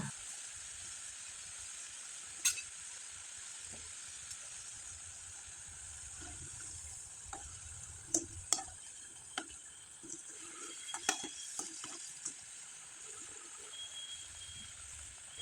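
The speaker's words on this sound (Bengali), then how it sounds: "পিঠাটা একবারে মুছমুছে করে ভেজে নিলাম" Rice flour pitha frying in hot oil, a faint, steady hiss and sizzle with occasional soft ticks and pops, close and quiet with no talking.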